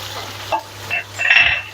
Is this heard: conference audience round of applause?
no